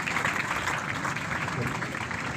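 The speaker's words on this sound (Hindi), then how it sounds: "एक बार जोरदार तालियों से उनका स्वागत कीजिए" A crowd gathered at a university during a staff protest gives loud, sustained applause to welcome a guest, a dense, even roar of clapping with some voices mixed in.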